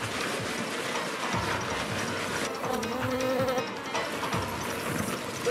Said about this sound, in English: Kurt, the bees are loose, man